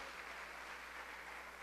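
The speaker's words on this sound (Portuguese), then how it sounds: "Você pode dar uma salva de palmas ao Senhor?" A church congregation applauds during a Sunday service, a dense, steady wash of many hands clapping throughout the brief moment, somewhat distant and quiet.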